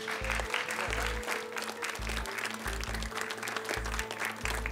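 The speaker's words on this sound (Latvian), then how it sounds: "Nu tad aplausi visām komandām." An audience applauds all the competing teams at a 2015 science show final, producing a moderate wash of clapping that is accompanied by a rhythmic thumping bass beat of background music.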